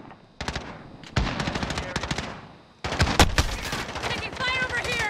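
FAMAS rifle fire in a shooter video game: loud rapid automatic bursts crackle up close, broken by a short lull, with other game effects and radio chatter mixed in.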